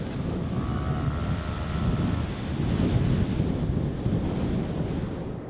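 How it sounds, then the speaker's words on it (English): Ocean waves rush past a racing yacht sailing at full speed in an around-the-world race, a loud continuous wash of surf and spray with heavy wind buffeting the microphone. "A delighted Team Telefonica charging through the waves at full speed on their way to a spectacular Leg One victory."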